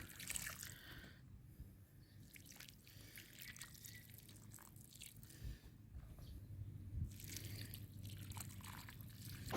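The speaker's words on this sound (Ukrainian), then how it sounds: "після посадки я поливаю водою" Water pours and patters onto soil around newly planted tomatoes in uneven bursts, soft and close, with faint dripping in between and no voices.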